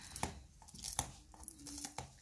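Adhesive tape being peeled off a homemade notebook, a few quiet ripping and crinkling bursts spread across a couple of seconds, close by with no talk.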